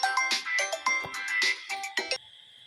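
A phone rings with a bright, melodic ringtone: a quick run of repeated electronic chimes lasting about two seconds before cutting off, close and fairly clear.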